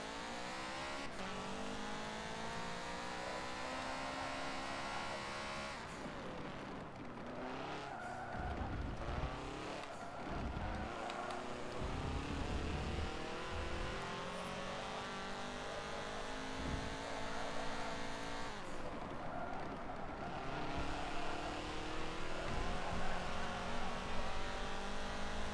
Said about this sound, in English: Sounds pretty cool, the GT cars going past.